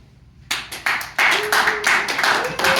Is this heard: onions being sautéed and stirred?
no